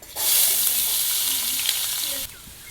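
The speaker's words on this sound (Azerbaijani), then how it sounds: "Əvvəlcədən isinmiş yağa soğanları tökürəm. Biraz qovururam." Chopped onions hit preheated oil in a pan and sizzle at once, a loud, steady frying hiss with faint stirring clicks that stops abruptly near the end.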